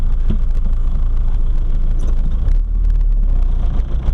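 A 1979 Volkswagen Rabbit with a 1.6L diesel and five-speed gearbox, heard from inside while shifting into reverse and backing up, with a loud low engine rumble and a few faint clicks.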